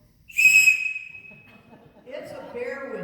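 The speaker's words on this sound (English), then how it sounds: "It's a bear whistle" A bear whistle gives one loud, piercing blast lasting under half a second and fading out. Indistinct voices and rustling follow a moment later.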